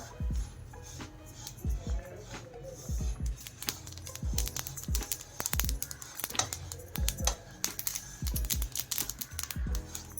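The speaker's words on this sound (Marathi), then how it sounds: "एकदम कमी गॅसवरती सारखं असं हलवत भाजून घेतलेलं आहे" Sesame seeds are stirred while roasting over very low gas in a pan, giving close, dry scraping and rattling strokes in an irregular rhythm with short pauses, over a low background hum.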